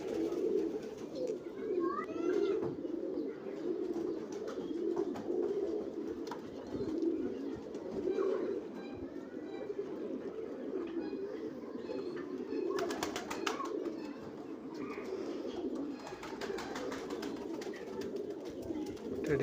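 Teddy pigeons, a breeding pair kept for sale, coo steadily in low, throaty, repeated calls at close range, with a voice talking faintly in the background.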